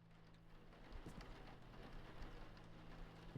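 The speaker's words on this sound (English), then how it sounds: "You can hear the rain against the window." Rain patters against a window in a Thief fan mission video game, a soft steady hiss with scattered drops tapping, faint and continuous, with no voices.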